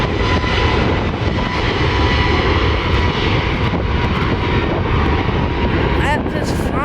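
Airliner passing overhead during plane spotting, heard as a loud, steady jet roar that holds for several seconds, with a few faint voices under the noise near the end.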